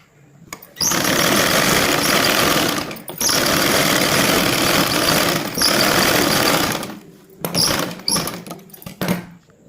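An electric sewing machine runs top-stitching along a Punjabi dress pant, a loud steady whirring buzz in long bursts with brief stops between runs, then shorter stuttering starts near the end.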